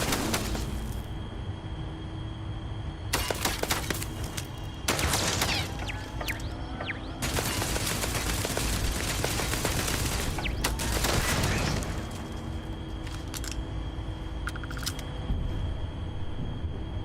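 Gunfire from a sci-fi shooter game, rapid bursts of shots coming in several dense stretches with short pauses between, loud and close over a steady ambient hum.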